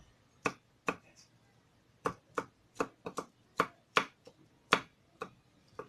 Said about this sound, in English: So I'm going to crush it now. crush it and I slice it.